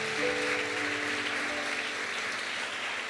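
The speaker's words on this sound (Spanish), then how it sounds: "Dele un aplauso al Señor." Church congregation applauding the Lord during a Spanish-language service, a steady, soft wash of clapping throughout, with faint sustained tones underneath.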